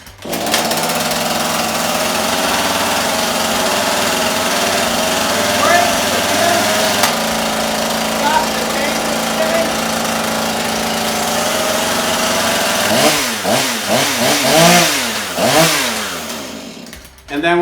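Husqvarna 440e chainsaw pull-started, running with a buzzing two-stroke drone that steadies, then several rapid revving surges near the end, close and loud.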